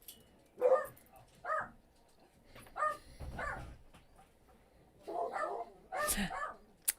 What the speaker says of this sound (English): I apologize if you can hear the dogs.